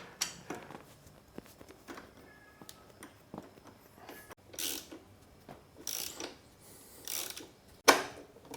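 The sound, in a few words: tools removing rear brake of KTM/Husky two-stroke motorcycle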